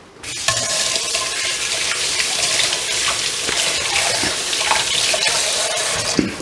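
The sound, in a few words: water from tap rinsing a hand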